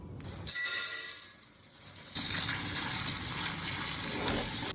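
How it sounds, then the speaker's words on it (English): Tap water gushes into a container as red beans are rinsed in a kitchen, an abrupt loud rush of running water that dips briefly, then keeps flowing steadily and close by. "The first step is to rinse the beans."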